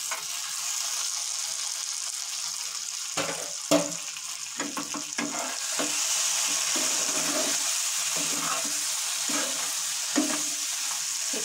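Shahi paneer cooking in desi ghee over a lowered flame gives a steady sizzling hiss, with a spoon stirring and scraping the pan in short bursts throughout; no talking.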